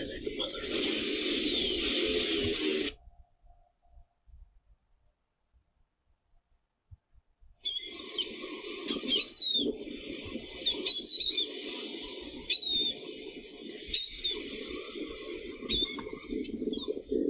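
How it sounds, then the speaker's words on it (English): Birds call outdoors at night around eleven o'clock, with repeated sharp chirping cries over a steady high drone. The calls come after a loud opening stretch and a few seconds of near silence. "Those birds are creepy."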